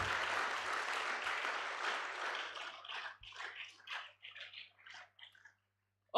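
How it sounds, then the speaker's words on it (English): An audience at a medical laboratory science induction ceremony applauds the parents and guardians of the inductees. The clapping starts thick and steady, then thins into a few scattered claps before fading out. "A better round of applause for them."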